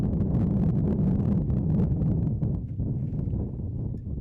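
Wind buffets a microphone on an open disc golf course, a constant low, rough rumble with fluttering gusts throughout and no clear talk.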